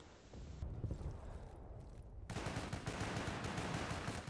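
Sustained rapid gunfire and battle noise in the video game Battlefield: Bad Company 2, a dense continuous roar that turns harsher and louder midway through, with no voices.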